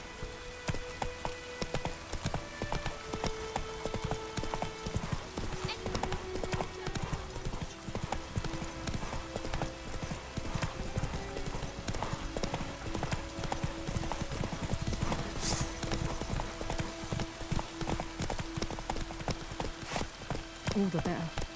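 Roach the horse gallops in The Witcher 3, steady rapid hoofbeats clip-clopping throughout with an occasional whinny, under game music and a voice talking.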